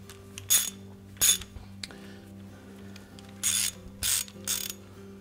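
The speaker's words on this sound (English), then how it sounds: "So just pull out on that belt while you're rotating the drive pulley" Drive pulley and drum of a GE washer rotated by hand during repair, giving short bursts of ratcheting clicks and clinks over a quiet mechanical hum, close by, with gaps between.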